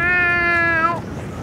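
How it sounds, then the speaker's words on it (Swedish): A single drawn-out, cat-like meow tone from a Fortnite jump sounds clearly, sliding slightly downward before cutting off, followed by quiet background noise. "Tycker ni att det låter som en katt när man hoppar?"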